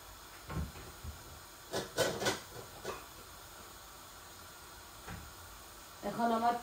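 Two kilograms of onions frying in a pan while cooking chicken and potato bhuna, a low hiss of sizzling with occasional clatter and bursts of talk over it.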